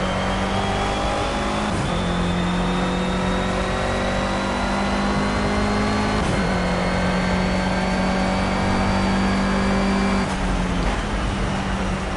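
A race car engine in the racing video game Project Cars, a car rated at 219 horsepower, drones loudly and steadily, its pitch climbing through the gears with brief dips at each of three or four shifts, continuous and close with no talking.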